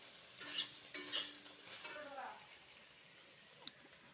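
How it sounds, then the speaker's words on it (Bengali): Soybean chunks fry in a pan with a faint, soft sizzle, broken by a few light stirring scrapes and clinks near the start, quiet throughout. "সয়াবিনটাকে ভেজে নেব, আনাজগুলো ভাজা আছে।"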